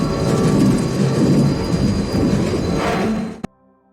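A train in a film rumbles loudly with rolling wheel noise and metallic squealing, continuous and close, then cuts off abruptly near the end to near silence.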